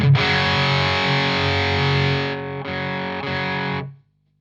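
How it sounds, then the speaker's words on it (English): A heavily distorted electric guitar chord through a Marshall DSL pedal into a clean amplifier rings out loud and sustained, then two shorter distorted strums follow before the sound cuts to silence. "So into a clean channel, clean amplifier, and then get my distortion with this one."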